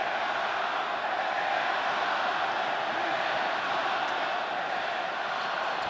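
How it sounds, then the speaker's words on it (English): Vociferous wrestling arena crowd at an AEW Grand Slam Mexico show roars in a dense, steady wall of cheering, loud and continuous throughout. "Certainly a vociferous crowd here tonight."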